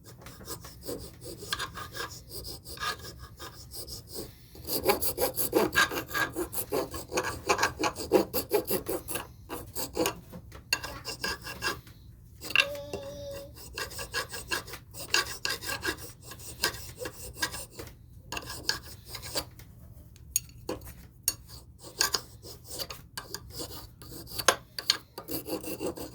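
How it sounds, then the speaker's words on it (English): Sandpaper rubbed against the ends of a cut wooden dowel rod, a close continuous rasping scrape in rough back-and-forth strokes with brief pauses, no talking throughout. "So I cut down my dowel rod, piece of sandpaper, and just round it off both ends."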